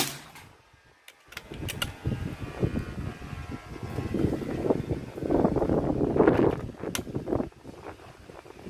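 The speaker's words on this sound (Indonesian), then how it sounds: "anginnya agak kencang" Strong, shifting wind buffets the microphone outdoors, a low rumbling roar that builds and swells through the middle before easing, with no voices.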